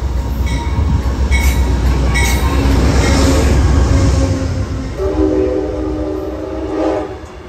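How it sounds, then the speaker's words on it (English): Short Amtrak consist passing close by: a leading Genesis locomotive, a single passenger car and a trailing F40PH, with loud continuous rumble and rail noise, a horn-like tone near the end as the sound fades slightly. "this one was far too short, featuring one leading Amtrak Genesis, a single passenger car, and a trailing F40PH."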